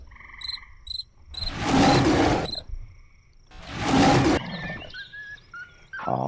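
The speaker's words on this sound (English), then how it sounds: "do I really have to hear them yipping?" Wolves yip in the video game Life of Black Tiger: short, high, tonal calls and chirps mixed with two loud, roaring bursts of game noise, all fairly loud and with no talking.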